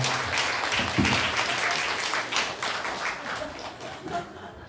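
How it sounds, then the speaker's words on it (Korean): A church congregation claps to welcome newcomers, giving a warm, moderately loud round of applause that gradually tapers off, with some talking mixed in. "박수로 환영해 줍시다"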